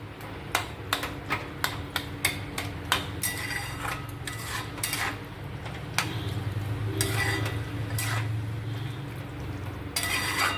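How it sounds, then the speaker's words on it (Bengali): Chhena being stirred into a capsicum curry, with rapid spoon clicks and scrapes against the pot at the start. A steady simmering hiss continues beneath, close and without speech. "ছানাটা দিয়ে ভালো মতো মিলিয়ে নিলাম"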